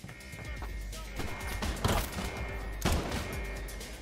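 Gunfire from a firefight in the video game Crime Boss: Rockay City, with a dense crackling clatter and two louder sharp bursts near the middle and late in the stretch, set against steady game ambience.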